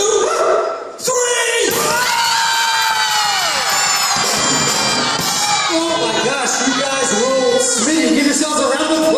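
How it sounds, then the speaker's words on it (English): A crowd of women at a live family concert in Cedarburg, Wisconsin, shouts a single word together, loud and sustained for several seconds, like a roaring audience cheer. "ladies, you're gonna yell the word roll as loud as you can"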